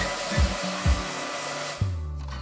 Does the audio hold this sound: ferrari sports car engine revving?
no